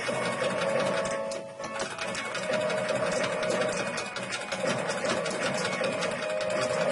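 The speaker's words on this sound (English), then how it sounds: "I'm not overly keen on these machine guns that I've got." Rapid machine gun fire rattles continuously through an arcade shoot-'em-up game, a dense stuttering stream of shots layered over synth music, with a brief dip partway through.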